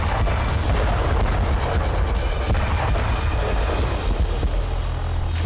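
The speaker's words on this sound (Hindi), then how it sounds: "अब पूरे गाजा में बम बरस रहे हैं" Heavy, continuous booming and rumbling from bombs exploding in Gaza, loud and dense with overlapping blasts and no gaps.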